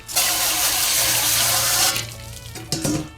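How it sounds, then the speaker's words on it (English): Running water from a hose rinses out a bowl after bass cleaning, a loud gushing splash that drops off, then a brief second burst of flow. "rinse out this bowl"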